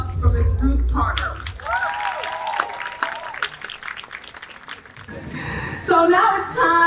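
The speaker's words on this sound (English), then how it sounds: "let's give another round of applause for Miss Ruth Carter." Audience applause at the 53rd NAACP Image Awards ceremony: a dense wash of clapping with scattered cheers and whoops, rising again near the end, with voices mixed in.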